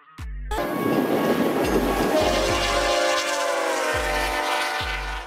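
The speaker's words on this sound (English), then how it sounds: "a freight train that carries intermodal containers" A container freight train sounds a loud, sustained horn that holds for several seconds over the continuous rumble of the train. Heavy, rhythmic wheel thumps repeat underneath it.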